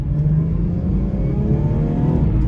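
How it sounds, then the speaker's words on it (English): A car engine drones steadily at full throttle, its low rumble slowly climbing in pitch as the vehicle accelerates sluggishly, heard from inside. "that was my foot flat to the floor, and the car felt very sluggish, very slow"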